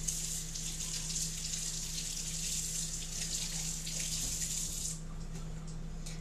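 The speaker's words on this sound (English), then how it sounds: "I'm just going to rinse my onion" An onion rinsed under a running kitchen tap makes a steady, soft rush of water that cuts off shortly before the end, fairly quiet and heard alone.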